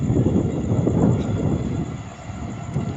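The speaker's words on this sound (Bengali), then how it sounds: "আর এই দেখো ট্রেন যাচ্ছে এখন।" A train rumbling past near the Ganges riverbank, a steady low roar that is loudest at first and slowly eases as it moves away, with a faint breeze underneath.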